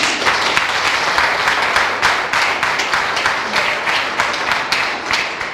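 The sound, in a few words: audience applause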